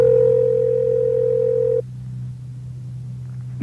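Telephone dial tone as a call is placed, a steady tone held for almost two seconds that then cuts off, leaving a quieter hum on the open line.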